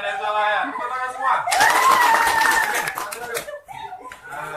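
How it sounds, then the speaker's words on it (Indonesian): A classroom of students bursts into group hand clapping partway through, following a teacher's speech and continuing a few seconds before fading into talk and laughter. "Tepuk tangan semua."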